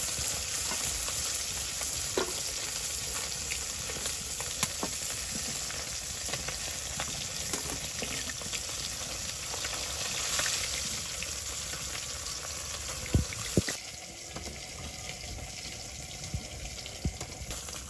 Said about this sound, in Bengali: মাছগুলো যাতে বেশি পোড়া না লাগে ওই বিষয়টা লক্ষ্য রাখতে হবে। তো মাছগুলো ভাজা হয়ে গেছে মোটামুটি লেভেলে